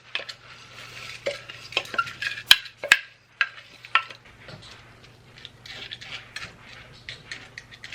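Rice and water go into a baking pan for a shrimp and rice dish, heard as close scraping, pouring and clinks of a utensil against the pan in uneven bursts, with a few sharp taps and no talking.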